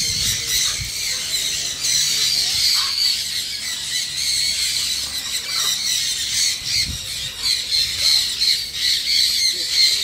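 Birds in an aviary where they perch on visitors squawk and squeal loudly and repeatedly at close range in an overlapping, continuous chorus, with faint human voices in the background.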